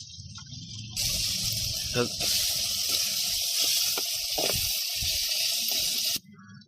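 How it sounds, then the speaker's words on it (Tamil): Tamarind water poured into a pan of murrel fish curry (viral meen kulambu), a steady gushing hiss that runs for about five seconds, with some talk in the background. "தேவையான அளவு புளி கரைச்சி வச்சுருக்காங்க அப்போ புளி தண்ணி ஊற்றிருக்காங்க"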